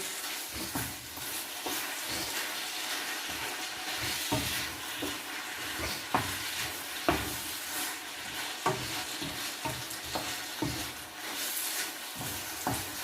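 Pork chow mein stir fry sizzles quietly in a pan over residual heat, a soft steady hiss broken by irregular light taps and stirring scrapes.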